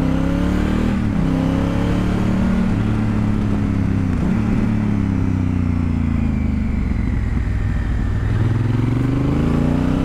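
Adventure motorcycle on Dunlop Trailmax Meridian tyres riding on a road, its engine droning loud and close with repeated rises and dips in pitch as it accelerates and shifts, wind rushing throughout, no talking.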